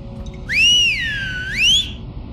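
Two rising-and-falling whistles sound in the horror game Lost in Vivo, clear and fairly loud against a quiet, low background hum, the second answering the first after a short gap.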